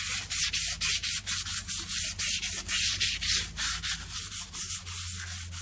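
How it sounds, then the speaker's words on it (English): Light hand sanding across the cylinder walls of a Chevy 350 engine block under rebuild, a steady back-and-forth rasping strokes about twice a second, close and fairly loud, no talking. "I went ahead and did a quick light sand on the cylinders here"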